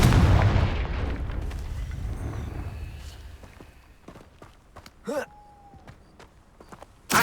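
A Confringo fire spell in the Hogwarts Legacy video game lands with a loud, booming explosion that rumbles and decays over a few seconds, followed by soft footsteps, a swooshing magical effect and another sharp hit at the end.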